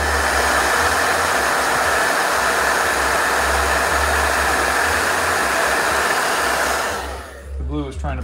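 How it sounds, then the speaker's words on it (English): A blow dryer drying wet paint runs as a loud, steady whir with an even rushing hum that holds unbroken, then fades out at the end as a voice begins speaking. "Hold on, a little bit of blow dryer real quick."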